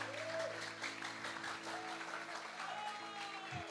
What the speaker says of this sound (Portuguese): pelo menos dá um aplauso digno do Senhor